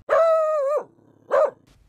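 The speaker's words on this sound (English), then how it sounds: "Did I just see a dog walk by" A dog barking in a horse-themed toy series, one long drawn-out bark followed by a shorter one, close and clear with nothing else over it.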